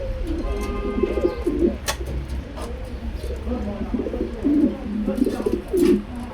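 Lahori pigeons at a pigeon farm coo in low, soft, repeated burbles through the scene, close by, with someone talking over them and faint background noise.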